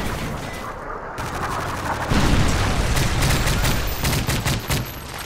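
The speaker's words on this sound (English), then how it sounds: "Friendly Predator missile inbound." Call of Duty Modern Warfare 3 multiplayer battle during a Predator missile strike: dense, loud gunfire and booming blasts overlap continuously, with a heavier rumbling impact surge partway through and rapid shots continuing after.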